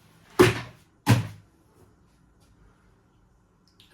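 Two solid thuds in quick succession as the doors of a Philips Perfect Draft beer machine are pushed shut, close and fairly loud, followed by near silence with a faint small knock at the end.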